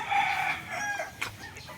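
A fighting rooster crows once on a farm, loud and close, its long call fading out, followed by a brief softer cluck; no one talks over it.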